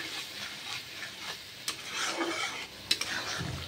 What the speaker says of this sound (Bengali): এবার আমি মশলাটাকে ভালোভাবে কষিয়ে নেব।